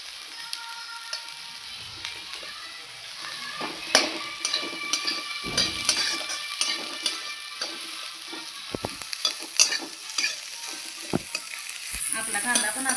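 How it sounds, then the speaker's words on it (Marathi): Onions frying until reddish for dry mutton, a continuous close sizzle broken by frequent sharp clinks and scrapes of a spatula against the pan, with no talk. "लालसर कांदा होईपर्यंत भाजून घेऊया।"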